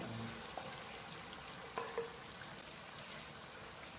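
Cauliflower and mutton frying in oil on medium heat, a faint steady sizzle with a few soft clinks and scrapes of stirring.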